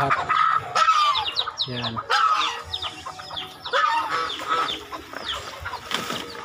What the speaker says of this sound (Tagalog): mga manok ko yan, lahat